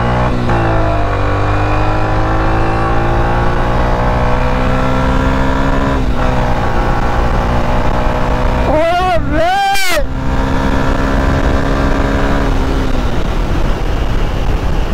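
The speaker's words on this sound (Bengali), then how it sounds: "আর গাড়ির সাউন্ডটা আপনাদের শোনাই, এই হচ্ছে বাইকের সাউন্ড।" A motorcycle styled like a Yamaha R125 idles with a steady, loud engine drone close by, then its throttle is blipped in a pair of quick revs before it settles back to idle.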